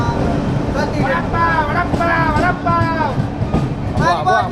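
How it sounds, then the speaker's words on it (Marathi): Moving passenger train on a trip to Rameshwaram, a steady loud rolling rumble inside the carriage with voices talking and calling over it throughout. "चालती ट्रेन बघा"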